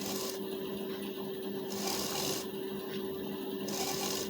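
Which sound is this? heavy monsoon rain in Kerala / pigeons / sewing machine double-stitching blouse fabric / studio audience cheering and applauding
sewing machine double-stitching blouse fabric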